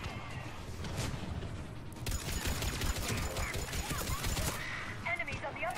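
Gunfire during a firefight in the video game Mass Effect 3, a spread of rapid shots and impacts at moderate level, heard under a talking voice and game sounds.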